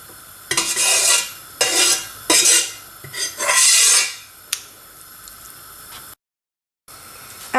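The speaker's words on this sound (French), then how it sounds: "je vais verser la viande avec sa sauce de la marmite directement" Meat and sauce poured from a cooking pot into a tagine dish for stuffed artichokes, heard as several loud bursts of scraping and splashing with metal clinks, then a brief silence.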